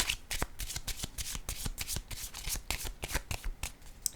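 Tarot cards being shuffled and drawn, a quick run of crisp riffling flutters and soft slaps that repeat steadily for several seconds, close and clear with no talking.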